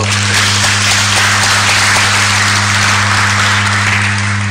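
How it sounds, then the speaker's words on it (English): An audience at a Tanzanian forum session applauds an ambassador after his closing remarks, a dense, loud wash of clapping held for several seconds over a steady low electrical hum. "let's give him another applause"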